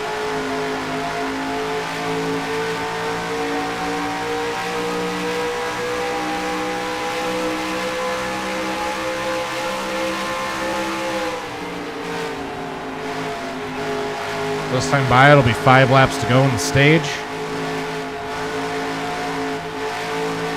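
Simulated NASCAR stock car engine at Auto Club Speedway in NR2003, droning steadily at high revs, then easing and blipping as the throttle is feathered through the turns, with a commentator talking briefly over it.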